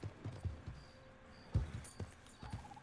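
Horse hooves clip-clopping at a riding pace in a Western bounty-hunter video game, with irregular soft thuds spread across open-country ambience.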